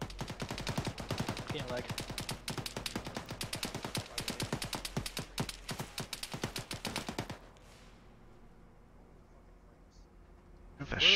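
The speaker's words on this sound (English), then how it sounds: "Where are the shots coming from?" Gunfire in the Arma 3 military game: rapid, dense shots and bursts that rattle on for about seven seconds, then break off into a quiet lull, with a voice speaking briefly near the end.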